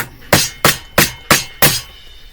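A chisel struck with a mallet to clean out wood: five sharp, evenly spaced blows in quick succession, loud and close, with no talking.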